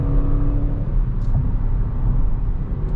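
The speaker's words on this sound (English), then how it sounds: "It's not a very loud car" A 2021 Audi RS6 Avant on the move, heard as a low, steady engine rumble and road hum from inside the car, fairly quiet and even with no sharp revving.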